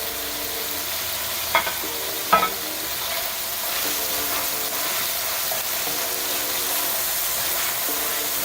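Chicken tikka fries in a hot pan with a steady bright sizzle throughout, broken by a couple of sharp clinks of a utensil being stirred through the pieces.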